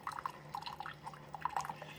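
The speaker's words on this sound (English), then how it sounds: "that's just going to run some fresh water through there" A Keurig K-Express coffee maker runs fresh rinse water through, giving faint, quick drips and trickles over a low steady machine hum, close and without talking.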